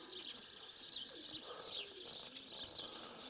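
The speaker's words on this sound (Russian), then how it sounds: "Дикие голубки тут у меня" Wild doves coo and chirp nearby, soft repeated calls over a quiet outdoor background.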